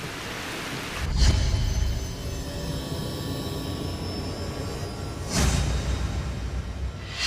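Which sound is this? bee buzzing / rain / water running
rain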